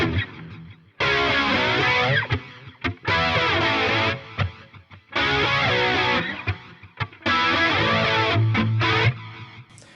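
Electric guitar run through a Line 6 Helix with a lush 80s-style chorus and light distortion, playing four loud strummed phrases separated by brief pauses, no voices.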